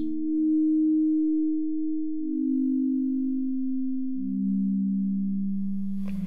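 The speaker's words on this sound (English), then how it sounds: "The resulting sound atmosphere evokes the aridity of the Arizona desert where this meteorite was found" Sonified meteorite from the Arizona desert rendered as pure sine tones: a few steady, close-together low drones that glide downward step by step, alone and sustained, with a faint noisy rustle entering at the very end.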